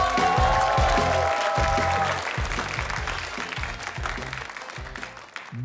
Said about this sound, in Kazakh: Шапалақ, бәрекелді.